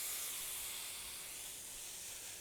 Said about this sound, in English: That is steam, guys.